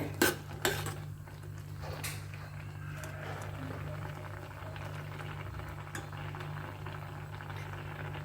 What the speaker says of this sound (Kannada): ಕುದಿ ಬರ್ತಾ ಇದೆ